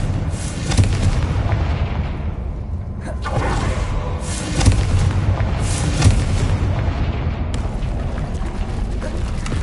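Fire-blast spell from Hogwarts Legacy going off in repeated booming explosions, loud and dense with continuous rumbling battle noise between bursts.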